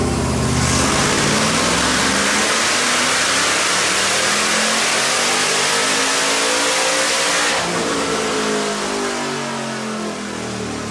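A car engine revs hard on a dynamometer, the loud, rising pitch climbing steadily through a sustained full-throttle pull before easing off at the end.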